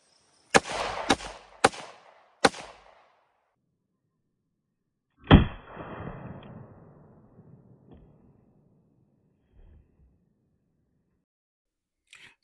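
Handgun shots from .22 Magnum, .38 Special and .32 calibers ring out outdoors: four sharp reports in quick succession, a pause, then one more loud shot with a long fading echo, and no talk over them.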